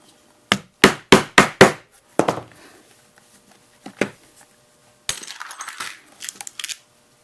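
Rivets are set on a leather pommel holster with a burst of five sharp, ringing hammer blows, then two more separate strikes. Light rustling and handling noise follows, all close and clear.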